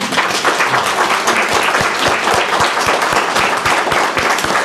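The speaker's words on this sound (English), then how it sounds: "give yourself a big round of applause" A county commission meeting audience breaks into sustained, dense applause, many hands clapping steadily and loudly in the room for several seconds with no voices over it.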